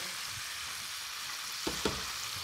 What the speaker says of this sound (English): start frying up all those crevices, getting nice, crispy, and crunchy